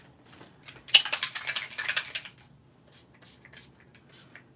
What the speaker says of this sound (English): So now we're gonna spritz it.